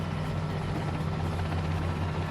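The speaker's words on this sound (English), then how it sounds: "Why is Bannon in a helicopter?" A military helicopter in the real-time strategy game World in Conflict: Soviet Assault gives off a steady, close rotor drone with a rhythmic chopping pulse and whining turbine hiss, heard alone.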